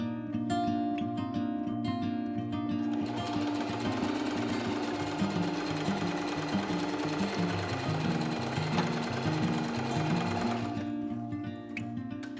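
A sewing machine runs steadily for about twelve seconds, stitching a very small hem on a ruffled top, with a continuous loud mechanical whir and rapid needle rhythm and no voices.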